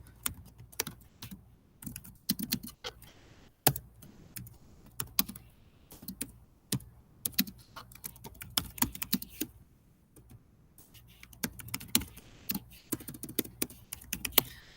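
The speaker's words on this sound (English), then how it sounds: "let me just type it out" Rapid clicking of a computer keyboard as someone types in a classroom setting, irregular bursts of keystrokes with short pauses, close and clear with no talking.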